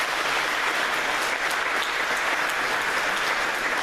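Steady, dense applause from an audience at a jazz concert, a continuous wash of clapping hands holding at an even level throughout.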